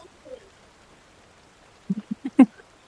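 Birds chirp in a quiet forest around a cabin: a faint low call early, then a quick run of four or five louder, close chirps in a rapid rhythm, with no clear insect buzz standing out.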